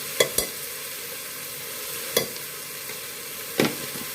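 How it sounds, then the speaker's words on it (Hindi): Vegetable curry (sabzi) cooks in a pan, with a few sharp spoon scrapes against the metal spaced over a steady low sizzle. "अभी रोटी नहीं बनी है, सब्जी बना रही हूँ।"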